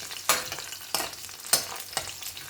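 Garlic gently frying in a pan over low gas heat, a soft steady sizzle broken by four evenly spaced brighter bursts as it is stirred, fairly quiet and close.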